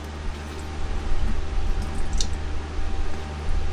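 Coolant drains out of a car radiator into a pan as a steady, close trickle and splash under a low background rumble, with no one speaking.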